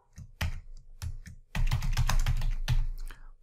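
Computer keyboard typing SAS code, a close, brisk run of clattering keystrokes that starts in a few separate taps and then becomes a dense, continuous burst.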